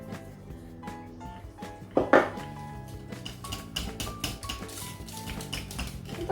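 A spoon clinks and scrapes inside a pot while jelly dissolves in hot liquid, a series of light irregular taps and scrapes with a louder clatter near the two-second mark, close and moderately quiet.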